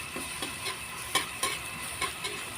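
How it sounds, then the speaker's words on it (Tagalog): Shrimp paste (alamang) sautéed with onion and garlic sizzles quietly in a pan while a utensil stirs it, giving light regular scraping taps over a constant low hiss, close by with no voices. "Sinunod ko naman itong alamang at haluin lang natin ng ilang minuto."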